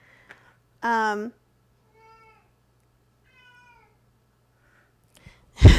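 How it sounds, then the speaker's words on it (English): A pet cat gives one loud, clear meow, followed by a couple of much fainter, softer meows a few seconds apart in an otherwise quiet indoor room, with a sharp noise at the end. "That is my cat."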